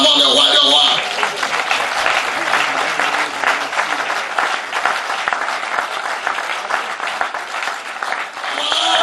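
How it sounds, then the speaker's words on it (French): A church congregation at a sermon breaks into sustained applause, with dense, steady clapping and voices mixed in throughout. "Acclamons le roi, le roi."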